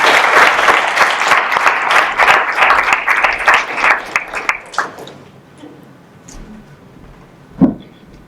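A lecture audience gives sustained applause to welcome Susan Ochs, with dense clapping that fades away after about five seconds, leaving quiet room noise and a single knock.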